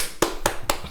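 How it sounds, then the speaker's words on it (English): A few sharp, separate hand claps, evenly spaced and close by, with nothing else around them. "Let's give a round of applause"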